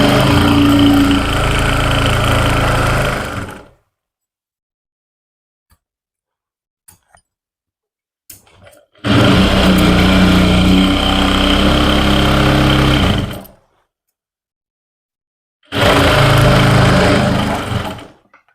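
An electric sewing machine stitches trouser fabric in three loud, steady bursts of mechanical whirring, each lasting a few seconds, separated by near silence with faint handling clicks.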